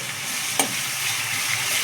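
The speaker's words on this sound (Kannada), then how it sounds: "ಈಗ ಇದನ್ನು ಒಗ್ಗರಣೆ ನೋಡಿ ಈ ಥರ ಮಾಡ್ಕೊಳ್ಳಿ" Tempering of green chillies and onion frying in hot oil for mandakki susla, a steady close sizzle with a brief louder crackle near the middle and no talking.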